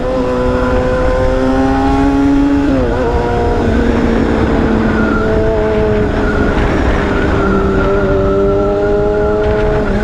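Big bike motorcycle engine revving hard and close, a sustained loud drone whose pitch climbs, dips sharply, then rises and holds steady with no talking.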